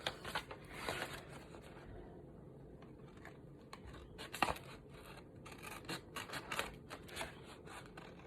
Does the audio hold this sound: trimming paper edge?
yes